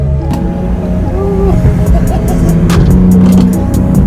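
A car on an early-morning drive in Los Angeles, its engine a loud, steady low drone heard from inside the cabin, with a faint whine and a few light ticks and knocks above it, no talking.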